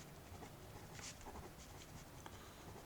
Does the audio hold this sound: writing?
yes